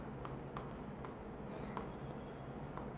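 Marker or chalk writing on a board in a classroom lesson on ICT database concepts, with steady rubbing strokes and periodic soft taps over a constant background hum and no speech.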